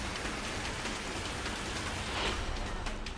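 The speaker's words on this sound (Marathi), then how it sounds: "रत्नागिरीच्या दापोलीमध्ये मुसळधार पावसाने हजेरी लावली" Heavy monsoon rain pours down steadily in Dapoli, Ratnagiri, a dense, unbroken hiss of downpour with no pauses.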